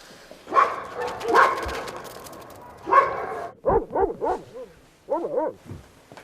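A dog barks in a series of close, loud barks and yips, some single and some in quick pairs, with brief pauses between.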